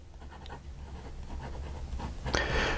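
A fine-nib Lanbitou 3059 fountain pen inked with Iroshizuku scratches softly across paper in short strokes, close and quiet over faint room noise, with a slightly louder scrape at the end.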